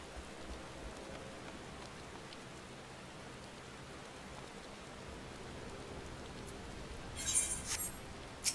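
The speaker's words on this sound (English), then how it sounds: "You should get out of the rain." Steady, even rain in the Final Fantasy XIV online game world, a soft continuous patter that holds throughout, with a brief brighter hiss near the end.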